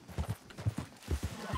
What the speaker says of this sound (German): Pferde, wilde Pferde.